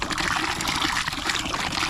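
Water from a hand-pump well splashes and gushes steadily, pouring close by in a continuous noisy stream for a couple of seconds.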